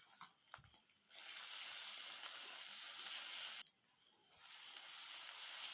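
Garlic paste frying in oil with onions for a Bengali fish kalia, giving a steady close sizzle that swells loud, breaks off briefly, then resumes.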